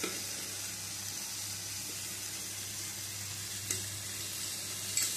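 Steady low sizzle of a mixed spice paste being sautéed in a pan for a vegetarian dish, with a couple of faint utensil clinks, no talking.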